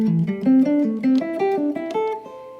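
A jazz pentatonic pattern over II-V-I chords plays as a quick run of clear, distinct single notes, each note attacked separately as the line climbs in a repeating shape.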